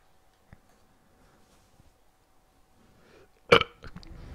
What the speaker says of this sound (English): That was a disgusting burp.